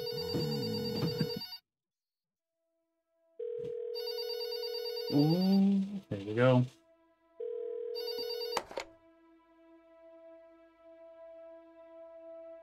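A telephone in the game There Is No Game rings in three separate bursts of bright electronic trills with silent gaps between them, then a brief spoken remark and a low steady tone follow.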